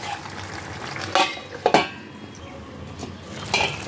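A metal lid clanks onto a pot of boal fish kalia curry on a gas stove, with two or three short knocks and a faint simmer underneath.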